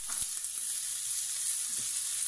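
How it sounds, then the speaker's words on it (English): A shallot sweats in a hot pan, giving a steady, faint, hissing sizzle that holds evenly throughout with a few soft clicks. "But into that pan, sweat down your shallot."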